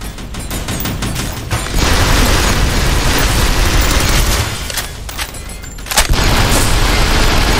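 Explosions in the Synthetik video game: loud, dense booming blasts and rapid gunfire bursts roll almost continuously, with fresh surges near the middle and end and no voices over the din.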